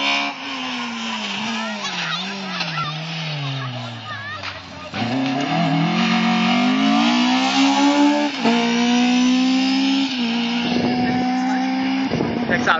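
Rally car at the ADAC Grabfeld Rallye near Sulzdorf revving hard and accelerating past, loud and close, with the engine note climbing through gear changes, then a second car following as the roar builds again.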